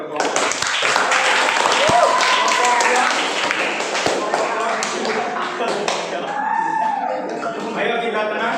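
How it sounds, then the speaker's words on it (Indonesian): A classroom of students claps for a group after its presentation, dense scattered applause close by that carries on for several seconds, with speech mixed in. "kita beri tepuk tangan untuk kelompok"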